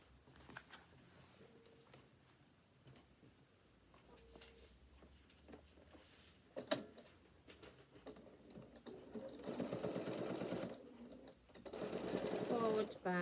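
A sewing machine stitching straps onto a fabric bag, starting with faint handling sounds and then running in two sustained bursts of steady mechanical whirring near the end, with quiet background noise throughout.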